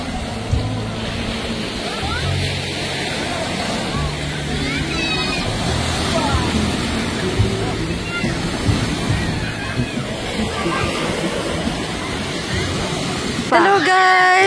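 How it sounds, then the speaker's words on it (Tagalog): Big ocean waves at White Beach resort in Bohol, with a steady broad surf wash and rolling breakers, near and loud, with a brief burst of handling noise at the very end. "Big waves."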